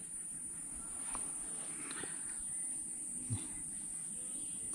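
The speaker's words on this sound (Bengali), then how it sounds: "পেছনে ঝিঝি পোকার হালকা শব্দ শুনতে পাওয়া যাচ্ছে।" A thin, high, continuous insect drone, like crickets, hums steadily in the background, with a few faint knocks and rustles.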